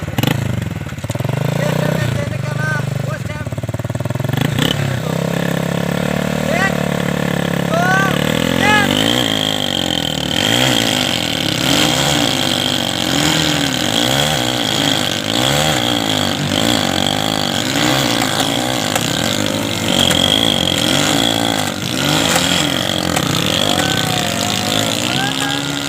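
A motorcycle engine revs hard and strains during a bike tug-of-war contest, the throttle rising and falling continuously over crowd noise while someone talks loudly over it throughout.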